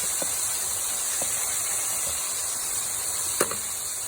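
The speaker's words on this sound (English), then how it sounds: "It is actually raining in my grease right now." Rain falling into hot frying grease outdoors during fried chicken cooking: a steady broadband hiss and sizzle throughout, with a few soft pops and one sharper crackle near the end, no talk.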